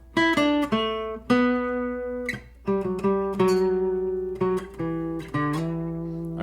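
A catchy melodic riff for a song intro rings out as clear plucked notes, some short and some held, played alone and close with no voices.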